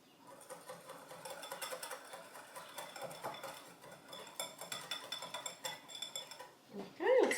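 A whisk beats through a mixture in a bowl, a quick, steady scraping and clinking against the sides that carries on for several seconds and ends in a louder knock.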